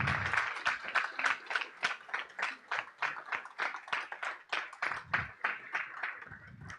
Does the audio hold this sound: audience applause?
yes